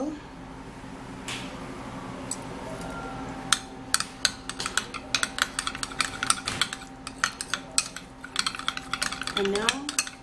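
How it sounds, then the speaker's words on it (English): A homemade eyebrow serum of vitamin E oil, aloe vera and Vaseline being stirred in a bowl, quiet at first, then rapid repeated clicks and scrapes of a utensil against the container, close and steady, with no one talking. "And now we'll have to mix this and mix it really good."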